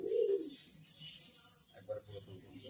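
Pigeons coo at a pigeon market at a village haat, with a low throaty coo up front followed by softer cooing and chirps among faint crowd noise.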